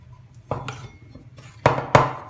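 Pork pie filling is tossed with flour in a bowl, giving a few soft scrapes and two sharper clinks of utensil against the bowl near the end, close and fairly quiet.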